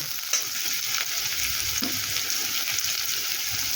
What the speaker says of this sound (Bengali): পেঁয়াজ কুচি পেঁয়াজটাকে তেলের সাথে একটু ভেজে নেব এই সময় আমরা আদা আর রসুনটাকেও দিয়ে দেব